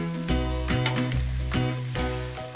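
Cooked rice fries in a hot pan for vegetable fried rice, a steady sizzle with occasional stirring, under prominent tonal background music.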